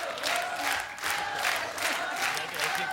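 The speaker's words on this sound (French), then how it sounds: "Applaudissez-la très fort." Studio audience on a French TV talent show for young singers applauds and cheers a contestant, a steady wash of clapping with a sustained tone underneath and no clear talk.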